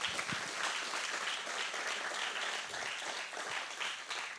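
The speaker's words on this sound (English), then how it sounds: "please, another hand applause?" An audience applauds after a business conversation event, a steady, dense wash of clapping hands that holds at an even level throughout.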